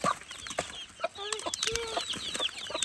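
Chickens cluck and chirp nearby in a backyard garden coop, a busy scatter of short calls with faint rustling, no talk.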